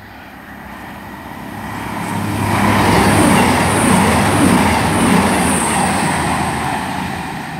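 A Class 220 diesel train passes through a rural station, swelling from a rumble to a loud close roar with wheel noise and high squeal, then fading slightly as it continues past.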